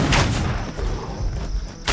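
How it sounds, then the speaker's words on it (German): A loud, booming gunshot from a game bursts at the start, then a sustained noisy rumble follows, and a second sharp blast lands at the end. "Ein Schuss."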